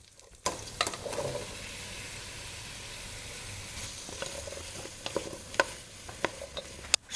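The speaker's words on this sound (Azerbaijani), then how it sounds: "biraz kərə yağı atıram şorbanı bişirəcəyim qazana və burada 1-2-3 dəqiqə qovuracağım." Chopped vegetables sauté in butter in a soup pot, giving a steady soft sizzle after a sudden start, with occasional sharp spoon clinks and stirring scrapes.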